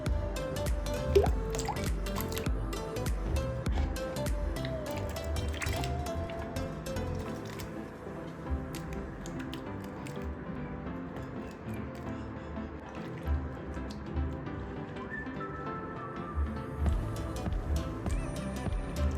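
Raw mangoes are washed in water, giving soft drips, splashes and squishy handling sounds that run quietly and unevenly at close range.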